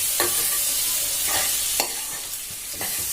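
Gram flour (besan) being stirred and roasted in a pan, a steady dry sizzle broken by several distinct scraping strokes of a spoon at a slow, uneven rhythm, close and fairly loud with no talking.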